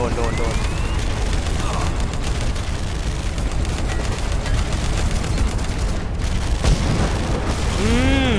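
Rapid, continuous explosions and gunfire roar through a busy battle in the PC game Terminator Salvation, with booming blasts and a few whistling effects layered on top.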